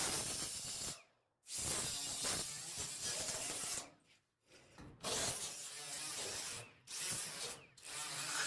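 A finer grit flat disc on a power tool finishes the metal of a replacement car body panel, producing a hissing, abrasive grinding that runs in several close bursts broken by short gaps.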